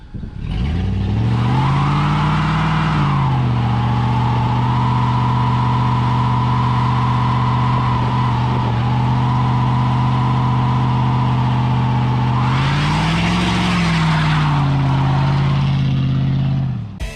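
A 1999 GMC Sierra pickup truck engine warming up after an oil pressure fix, idling steadily and loud and close, with revs rising briefly at the start and again near the end.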